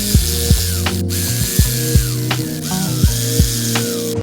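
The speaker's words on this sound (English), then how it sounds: "I'm gonna go ahead and torque these down." A ratcheting torque wrench tightens small fasteners on a 1997 Evo rebuild: short, crisp ratchet clicks repeat in a steady rhythm of strokes, close up, with no talking.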